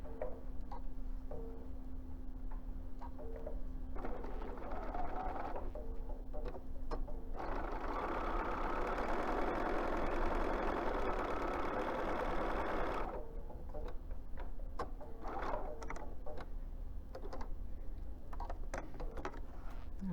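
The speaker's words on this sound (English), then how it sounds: "We're going to sew this into a cylinder as well" A sewing machine stitches a quarter-inch seam that joins fabric into a cylinder for a spring chicken basket. It runs steadily for about six seconds, fairly quiet, amid small clicks and room noise.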